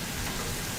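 Sausage and apples sizzling in a hot skillet in a plantain dish, giving a dense, steady crackling hiss throughout the short moment with no talking.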